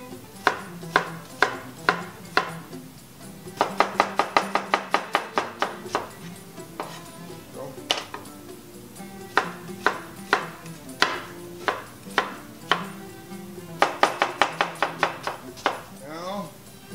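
Quick bursts of rapid knife chops on a cutting board, close and crisp, as pastilla ingredients are diced in several runs separated by short pauses.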